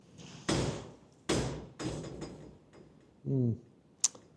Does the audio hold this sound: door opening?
yes